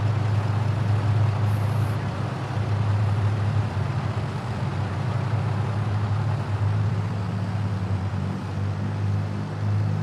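A farm rig's engine runs steadily at wheat planting time, a loud, constant low drone with a strong hum that holds unbroken and close from start to end, with no talk over it.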